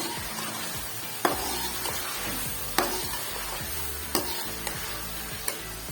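Steady sizzling and crackling of spices frying in a hot pan with onion, ginger and garlic for chicken curry, with a few sharp clinks of a spoon stirring at intervals.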